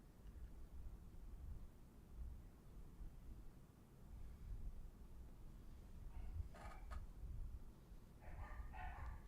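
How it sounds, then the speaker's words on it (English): Dogs bark faintly from some distance indoors, a few short barks clustered near the end over a low steady hum. "Those dogs bark at like if I drop a pencil."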